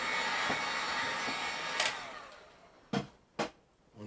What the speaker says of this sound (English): So we use a heat gun.